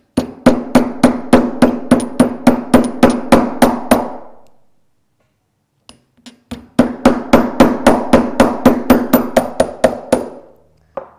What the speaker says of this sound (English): just give it a little tap with a hammer